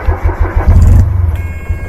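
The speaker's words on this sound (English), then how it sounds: "So we're just going to start the engine now." A narrowboat's engine is started: a low rhythmic cranking chug swells into a loud rumble that catches and then settles into a steady idle, close and alone without talk.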